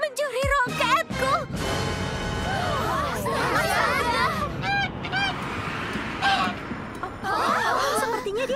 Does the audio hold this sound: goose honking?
yes